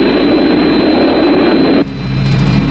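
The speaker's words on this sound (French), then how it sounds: "Je crois qu'on entend leur moteur." A loud, steady aircraft engine roar fills the air, dense and continuous, with a brief dip near the end before the drone builds again.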